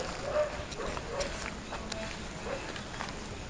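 Dogs barking somewhere in the distance, faint and intermittent over a steady background hiss, with a few short yips among them.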